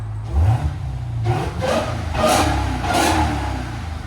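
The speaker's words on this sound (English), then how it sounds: "So you can hear the supercharger. You can hear the supercharger louder than whine." A supercharged 2023 Dodge Charger Hellcat engine revs in repeated swells, with a steady supercharger whine riding over the deep exhaust rumble, close and fairly loud.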